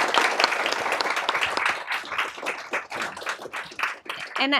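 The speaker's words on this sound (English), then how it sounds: "I want to first give a round of applause to this wonderful panel" An audience at a panel discussion on employee share ownership gives a round of applause, with steady, dense clapping throughout and a brief voice near the end.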